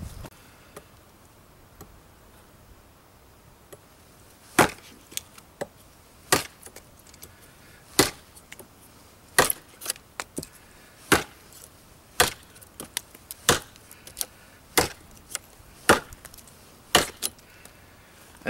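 North 49 mini-hatchet chopping scrap wood: a steady series of about fifteen sharp, loud chops spaced a second or so apart, each a crisp impact with light ticking between strokes, no talking.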